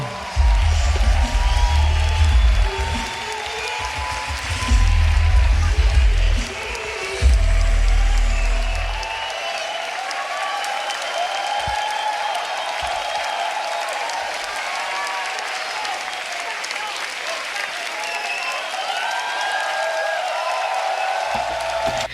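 A crowd at a beatbox battle roars with cheers, whoops and applause. Heavy booming bass punctuates the first several seconds, then a sustained, somewhat distant wash of cheering and clapping carries on.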